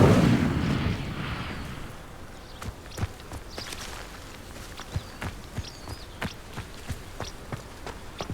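An Incendio fire spell is cast in the video game Hogwarts Legacy: a loud, rumbling fiery burst over the first two seconds, then a run of sharp, evenly spaced footstep-like clicks.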